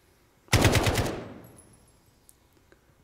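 A burst of AK-47 automatic gunfire from Call of Duty Modern Warfare, a loud rapid string of shots lasting about half a second, then a long echoing decay fading into quiet.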